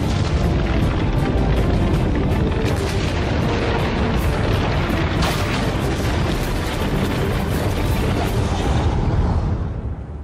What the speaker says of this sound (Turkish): Adanın merkezindeki yanardağ yıkıcı bir güçle patladı.